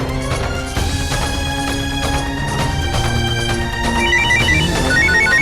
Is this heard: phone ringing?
yes